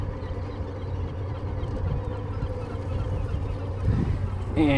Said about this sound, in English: I started the port engine